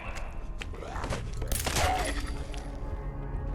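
Video-game gunfire rattles in a dense, loud burst that swells toward the middle and holds steady behind constant game noise, with no voices talking over it.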